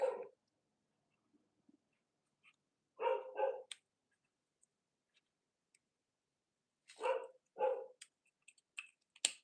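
A dog barks in short bursts, a single bark near the start, then a double bark mid-way and another double bark later, close and clear in an otherwise quiet indoor room with faint clicks.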